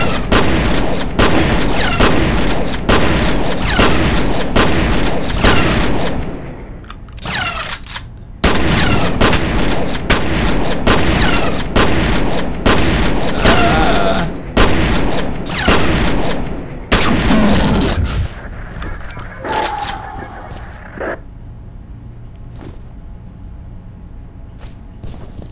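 Loud, dense gunfire from the video game F.E.A.R. rattles in rapid bursts and fusillades with brief gaps, then thins out into scattered shots and quieter ambient game sound toward the end.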